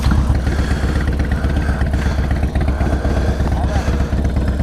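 A Harley-Davidson motorcycle engine runs steadily after a push start, with a loud, continuous pulsing rumble close by, and a person talks over it.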